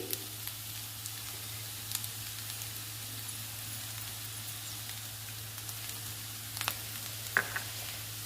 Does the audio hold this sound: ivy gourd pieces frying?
yes